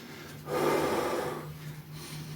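A single deep, forceful breath drawn in through the nose during a Bullworker exercise set, close and loud, rising then fading, with a quieter breath afterward.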